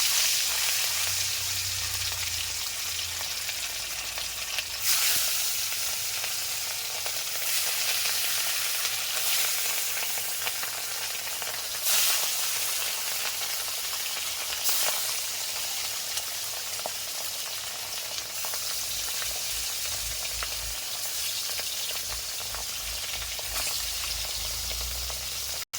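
Rohu fish pieces frying in hot, smoking oil: a dense, loud, continuous sizzle with hissing bubbling throughout, swelling in waves, with occasional low thumps.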